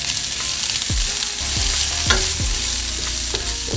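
Rice sizzles steadily in a hot pan for pork fried rice, with a sharp spatula scrape or stir recurring every half second or so over the continuous close frying hiss.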